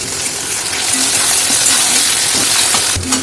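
Chopped onion, tomato and green chilli fry in a pan, giving a steady broadband sizzle with a few light clinks from stirring and no voices.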